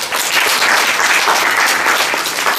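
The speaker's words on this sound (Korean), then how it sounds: "이 두 분에게 큰 박수 한번 해주세요" A conference audience gives loud, sustained applause for two bloggers, dense even clapping filling the room without pause.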